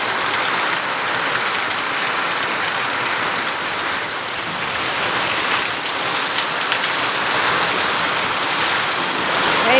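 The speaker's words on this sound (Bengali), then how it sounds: "বৃষ্টি পড়ছে, দেখেছো? দেখো কি বৃষ্টি।" Heavy rain falls in a loud, unbroken wash of hiss and patter, constant and close throughout with no pauses.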